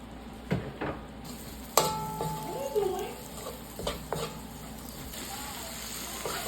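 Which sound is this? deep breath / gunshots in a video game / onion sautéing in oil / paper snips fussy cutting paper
onion sautéing in oil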